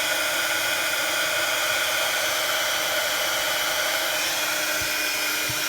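A heat embossing gun blows a steady, loud, even whir for several seconds while melting embossing powder on a card for a monochrome lace design, with no talking.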